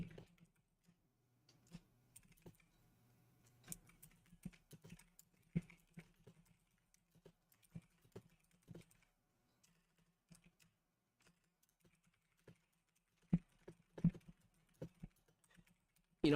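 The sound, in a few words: keystrokes typing on a computer keyboard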